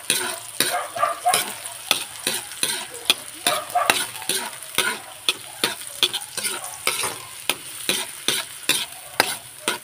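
Garlic and onion sizzle and fry in a hot pan, with a utensil stirring them in steady, repeated scraping strokes throughout, loud and close with no voices.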